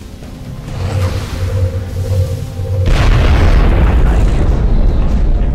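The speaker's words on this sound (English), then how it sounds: "Zang, I need you to fire a shredder rocket." A shredder rocket from XCOM: Enemy Within detonates with a heavy, loud boom after a low humming buildup, followed by a sustained rumbling roar that lingers to the end.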